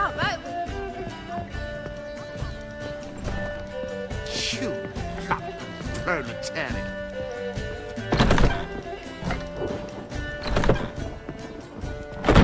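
Roach, a horse in The Witcher 3, gallops with rapid clip-clop hoofbeats over game music, joined by a couple of loud thumping impacts and brief snorts.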